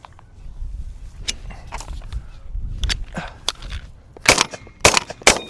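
A 20 gauge shotgun fires three rounds in quick succession outdoors, sharp loud cracks bunched near the end after scattered shuffling and rustling.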